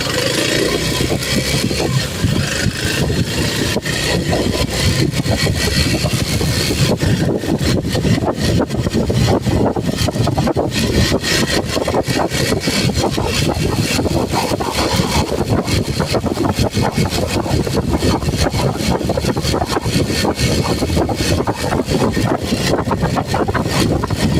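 Honda Navi motorcycles ride along a country road, one following the other, with a loud, continuous engine drone and heavy wind rush that hold steady throughout.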